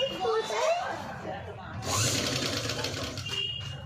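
A sewing machine runs in continuous stitching bursts while sewing a blouse neck, a steady mechanical whir.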